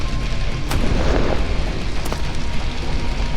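A fire shot hitting an enemy in a Skyrim-style stealth archer game, a loud booming burst with crackling fiery impacts and sharp pops over a dense rumbling game backdrop.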